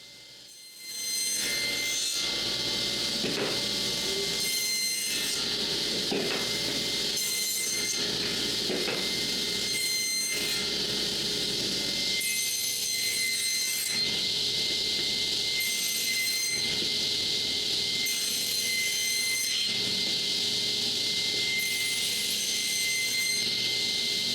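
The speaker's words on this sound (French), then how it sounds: "J'ajuste la hauteur de la lame et le guide, et c'est parti pour couper le tenon." A table saw blade cuts a tenon at the end of a piece of wood, a loud, continuous high whine that holds steady for the whole stretch, pulsing slightly as the blade passes through the wood, with no talking.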